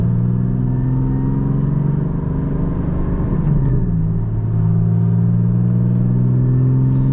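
A 2023 Porsche 718 Boxster Spyder with a DeMan-tuned 4.5-liter engine drones steadily while driving, the exhaust holding a loud, even rumble with a brief dip and rise partway through, and no voices.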